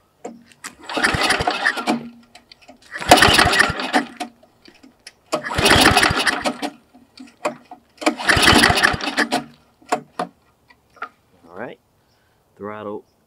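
A snowblower engine is pull-started repeatedly, four loud sputtering bursts separated by short pauses, each catching briefly before dying, with a few clicks and brief voice sounds afterward.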